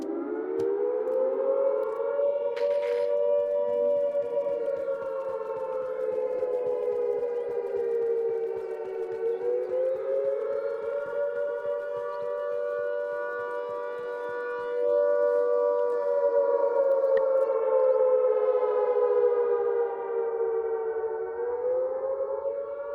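Air raid siren in the video game Arma Reforger, placed in Game Master mode, wailing continuously with a slow rising and falling pitch, heard from some distance yet still loud and steady throughout.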